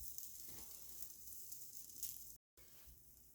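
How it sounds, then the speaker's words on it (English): Chicken sizzles in melted butter in a pan, a steady soft crackling fry throughout with a brief gap near the end, close and fairly quiet. "And you can hear it frying."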